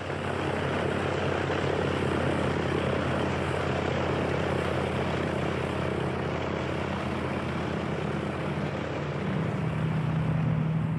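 Fully loaded WWII bombers taking off one by one, a continuous loud propeller engine drone that holds steady throughout, with a pitch shift near the end as another aircraft comes through.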